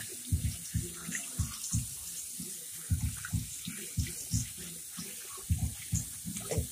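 Tap water running and splashing as hands are soaked to wash foam sealant off skin, an uneven rhythm of close splashes and gurgles over a steady hiss of flow.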